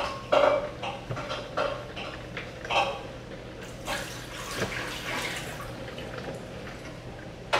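Hot water is poured for making coffee, a splashy trickle with scattered drips and small clinks, moderately loud and uneven, with no one talking.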